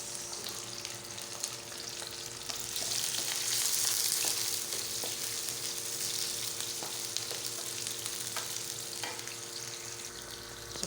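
Onions sautéing in a pan for ginataang alimasag, crab with squash in coconut milk, make a quiet, continuous crackling sizzle that swells slightly midway, with occasional faint stirring ticks and no speech.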